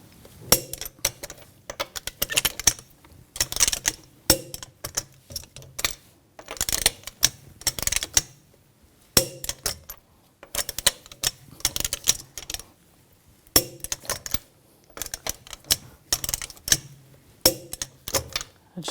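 A torque wrench tightens the lug bolts on a 2000-2006 BMW X5 wheel in a cross pattern, giving repeated bursts of rapid ratcheting clicks separated by short pauses, close and clear with no talking.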